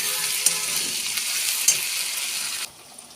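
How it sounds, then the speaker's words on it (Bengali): Onion and garlic sizzle in a hot pan, a dense steady hiss close by that stops abruptly near the end, with no voices. "পেঁয়াজ আর রসুনটা ভালো একটু ভাজা ভাজা হয়ে গেলে"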